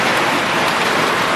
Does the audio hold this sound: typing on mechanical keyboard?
no